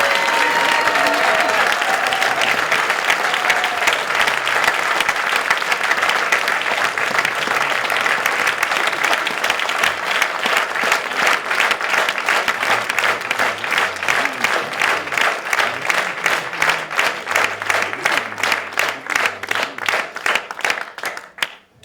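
Sustained applause from a crowd at a French political speech as Christine Barbier joins the stage, dense clapping throughout that grows into rhythmic unison clapping before ending abruptly.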